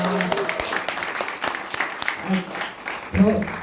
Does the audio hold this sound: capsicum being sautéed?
no